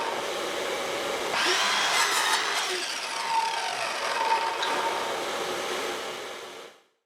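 A miter saw cuts through a wooden hoe handle, one loud sustained whine rising as the blade bites, running steadily for several seconds before winding down to silence.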